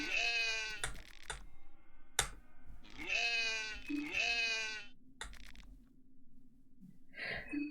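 Goat bleats in the horror RPG Fear and Hunger 2: Termina, several wavering, nasal calls in separate bursts over a low background drone, fairly loud and close.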